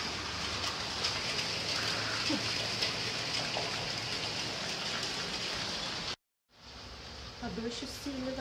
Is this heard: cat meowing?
no